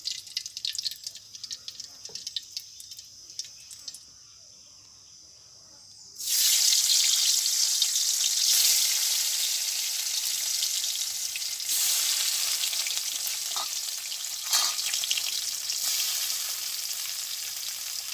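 Fish fries in oil in a pan, starting with faint clatter and scraping before a loud, bright sizzle erupts and holds as a continuous close hiss, swelling a few times as it cooks.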